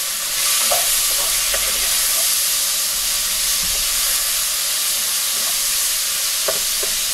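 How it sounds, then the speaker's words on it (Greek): Onions sizzling steadily in a pan of hot oil while pork is cooked in a pumpkin, a constant frying hiss with occasional faint stirring clicks. "Ρίχνουμε κατευθείαν τα κρεμμύδια μέσα."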